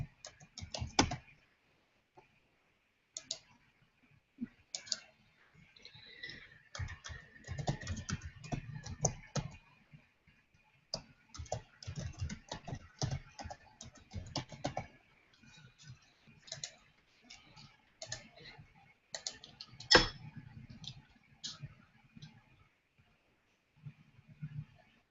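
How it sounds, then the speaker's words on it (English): Fingers type emails on a computer keyboard in irregular bursts of close, crisp key clicks with brief pauses between runs, and one louder keystroke stands out partway through. "let me finish typing in these emails"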